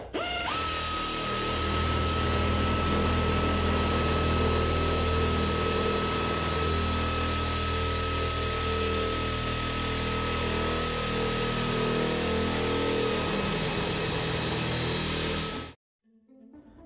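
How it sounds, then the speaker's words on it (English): An angle grinder with a cutoff wheel cuts metal around a camper's bathroom slide-out, making a loud, sustained high-pitched whine with a continuous grinding rasp for about fifteen seconds before it cuts off and spins down. "I will have to use the angle grinder with cutoff wheel"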